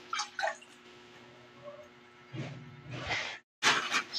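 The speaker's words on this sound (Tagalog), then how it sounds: "Lagyan natin ng soy sauce." Soy sauce poured into a pan of cooking vegetable pansit bihon makes a short splashing, trickling run of liquid, close and fairly quiet, with brief kitchen clatter before and after.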